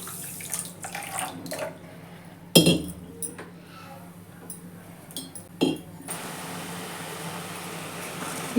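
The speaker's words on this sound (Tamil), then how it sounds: "சர்க்கரை முழுகிற அளவுக்கு நம்ம தண்ணி ஊற்றிக்கலாம்." Water pours into sugar in a cooking pan on a stove for Mysore pak, a steady close splashing stream broken by a few clinks of metal utensils.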